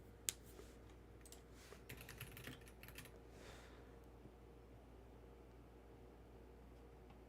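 Light typing on a computer keyboard comes in quick scattered bursts of key clicks, faint and close, against a low steady background hum, thinning out toward the end.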